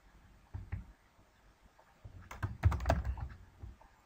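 Quiet, close keystrokes on a computer keyboard, a few scattered taps followed by a quicker burst of typing, with no voices.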